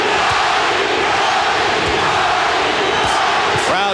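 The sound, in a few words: boxing crowd chanting a fighter's name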